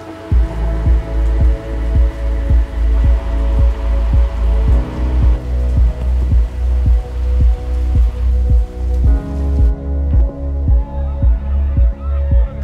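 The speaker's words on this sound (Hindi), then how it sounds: "बहुत ही ज़्यादा बारिश हो रही है" Heavy monsoon rain falls in the mountains around Munsiyari, a dense continuous roar with a regular throbbing pulse running through it and a voice talking over it.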